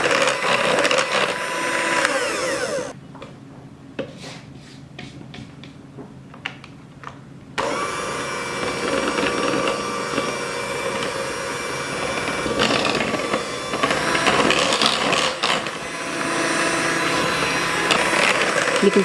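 Electric hand mixer whirring steadily through a coffee ice cream base, a loud continuous motor drone with a brief pause midway before blending resumes, with no voices.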